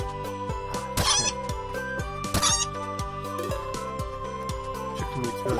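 Chickens clucking in the video game Forager, two short squawky bursts rising over steady, looping game music with no talk.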